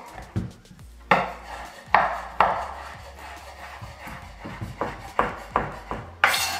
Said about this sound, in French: Mon poulet, je vais le détailler en cubes.